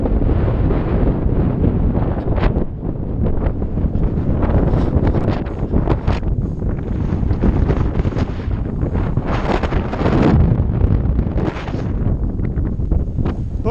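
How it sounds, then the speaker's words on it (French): A strong gust of wind buffets the microphone outdoors, a loud, continuous roar that swells and surges for the whole stretch with no voices. "C'est simplement une bourrasque."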